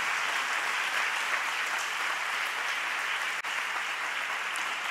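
A church congregation applauds during a sermon, producing an even, continuous roar of clapping that sounds somewhat distant and uniform throughout.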